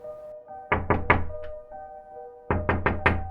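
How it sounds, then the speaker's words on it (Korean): Knuckles rap on a bedroom door at night, a close, sharp group of four knocks, a pause, then another quick run of four, set against a quiet room with a faint tonal hum. "새벽 2시쯤에 방문을 노크 하는 소리가 들렸다"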